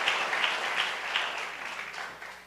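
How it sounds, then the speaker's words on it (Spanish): A church congregation clapping together during a sermon, steady dense applause with a faint rhythmic pulse, fairly close and sustained throughout, slowly tapering toward the end. "Dele palmas al Señor de la gloria."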